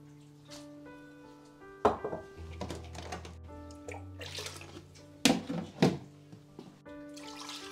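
Tap water runs and splashes into a basin for soaking and washing chicken, with irregular gushes, pours and clinks of a bowl close by, with no speech.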